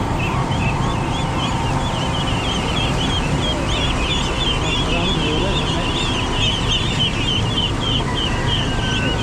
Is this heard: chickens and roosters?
yes